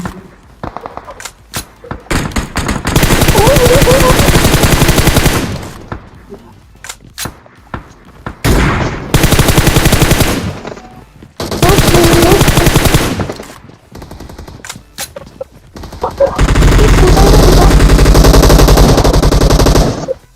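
Automatic gunfire and single shots from a firefight in PUBG Mobile at a military base, loud bursts in several long rapid volleys separated by short gaps and isolated cracks, with no talk over them.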